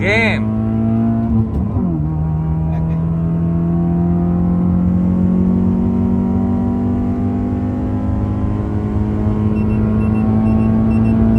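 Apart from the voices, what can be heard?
nitrous car revving, pulling in second gear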